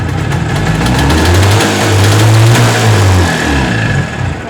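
A motorcycle engine runs steadily and loudly throughout, its low rumble rising slightly in pitch at the midpoint as if briefly revved before settling again, with no talking.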